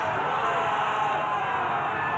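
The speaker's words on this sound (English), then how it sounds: "the crowd absolutely intense here in Bangkok, Thailand" Spectators at an MMA fight in Bangkok, Thailand roar and cheer steadily, a dense, continuous wash of crowd noise with a commentator's voice faintly mixed in.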